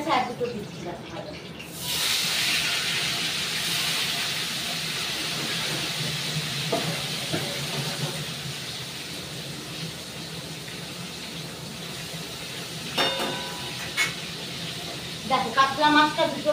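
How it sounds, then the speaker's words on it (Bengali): Pieces of katla fish frying in a pan, a steady broad hiss and sizzle that carries through the clip, joined near the end by a few sharp crackles and pops of spattering oil. "দুটো পাট ভাজা হয়ে গেছে, আর দুটো দিচ্ছিলাম ভাজা।"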